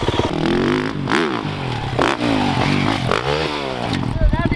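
A 2024 Yamaha YZ450F dirt bike with an FMF exhaust revs hard up close, repeated blips climbing and dropping in pitch over a loud running idle, with voices talking beneath it.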